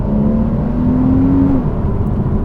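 A Porsche 981 Cayman S on its standard exhaust drives along with a steady, loud engine drone that rises slightly in pitch and then eases off, heard close from on board.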